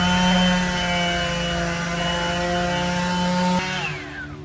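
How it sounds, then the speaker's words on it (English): A steady, loud whine from a power sander working wood while building a blanket ladder. It runs unbroken and close up, then drops off sharply as the tool shuts down near the end. "Now it's the fun part of sanding this."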